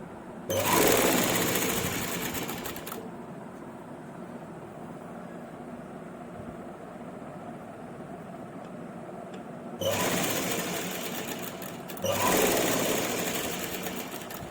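An electric sewing machine stitches lace onto a dupatta, running in loud, steady whirring bursts near the start and end with a quieter low hum between them.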